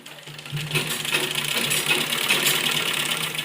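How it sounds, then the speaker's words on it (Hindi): A sewing machine runs steadily, stitching the side seam of a baby frock, its fast mechanical whir and needle clatter continuous and close for the full stretch. "उस पर हम मशीन को चलाते हुए साइड की सिलाई लगाएंगे हम नीचे तक।"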